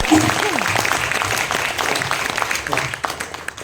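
Audience at a Hindi poetry recital applauds before a poet sings, a few seconds of steady clapping with some voices mixed in.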